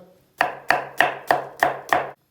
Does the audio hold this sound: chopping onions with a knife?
yes